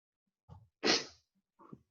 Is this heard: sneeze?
yes